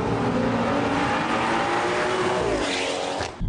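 A tuned 480 WHP Stage 2+ BMW X3 M40i SUV engine revs hard and climbs in pitch, then drops briefly as it shifts gear and pulls again, loud and close.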